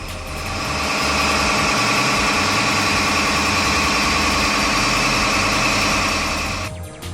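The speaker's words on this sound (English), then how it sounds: "Down in the engine room, the noise is deafening." Deafening machinery roar fills the engine room of the 130m Type 23 Royal Navy frigate HMS Sutherland while steaming at 20 knots, a steady dense drone with rhythmic low throbbing that holds loud throughout before easing slightly at the end.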